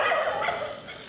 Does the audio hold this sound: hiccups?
no